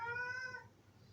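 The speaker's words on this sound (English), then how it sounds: "that is my cat." A house cat gives a single short, fairly close meow that trails off into quiet room tone.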